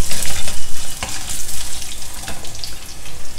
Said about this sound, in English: Stir fry all of them together till the dals are